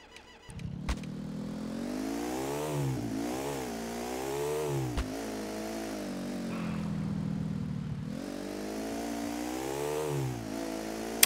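A motorcycle engine in Grand Theft Auto IV revs up and down repeatedly, its pitch rising and falling in several surging waves, loud and close, with a sharp click near the end.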